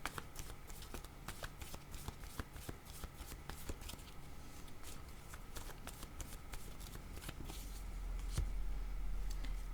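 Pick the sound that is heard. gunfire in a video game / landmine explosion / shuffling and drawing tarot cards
shuffling and drawing tarot cards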